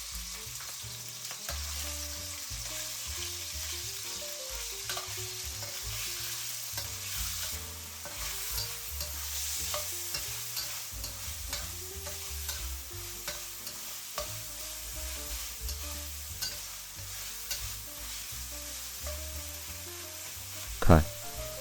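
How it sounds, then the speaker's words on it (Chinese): Pork belly frying in a wok over high heat, rendering its fat, gives a steady dense sizzle throughout with occasional scraping stirs and one sharp clatter near the end; no one speaks. "给锅里补点油，我们来煎五花肉，用大火把肥肉里的油逼出来"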